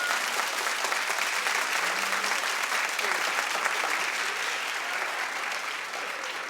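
A studio audience claps steadily and evenly throughout, a dense, sustained wash of applause with no break and only a slight fade near the end.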